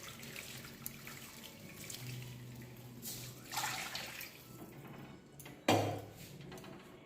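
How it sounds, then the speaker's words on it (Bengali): Cold tap water runs over boiled chowmein noodles being rinsed in a home kitchen, a soft, steady stream with light splashing and a sharper, louder splash near the end, no talking. "এরপরে এটা একটু ঠান্ডা জল দিয়ে ধুয়ে নেব।"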